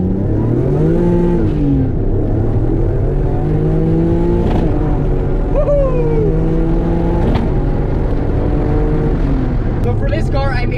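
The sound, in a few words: JDM 2.5 V6 turbo engine revving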